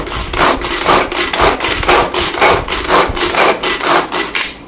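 A Tupperware pull-cord chopper minces two onions, giving a loud, rapid series of rhythmic whirring, grinding pulls with the plastic blades clattering, repeated about a dozen times up close without speech.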